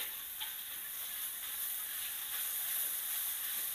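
Bean sprouts fry in a hot wok while being stirred for fried kwetiau with shrimp paste, giving a constant loud sizzling hiss with faint scraping and tapping of the spatula mixed in.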